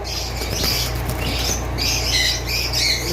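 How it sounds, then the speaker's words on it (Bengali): Adult cockatiels squawk harshly and repeatedly up close, with rustling wing flaps mixed into the loud, busy chatter. "বেশি দাপনাদাপি করতেছে যেহেতু অ্যাডাল পাখি"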